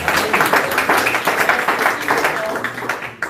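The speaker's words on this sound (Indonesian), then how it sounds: "Tepuk tangan untuk Yesus Kristus" A church congregation claps for Jesus Christ in quick, dense, fairly even applause, loud and close, with a voice speaking over it.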